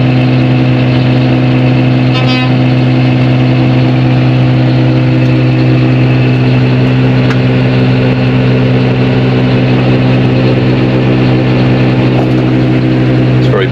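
A Deutz-Fahr DX 3.90 four-wheel-drive tractor with a Star cab runs with a loud, steady mid-pitched engine drone that never lets up, holding a constant even note from start to finish.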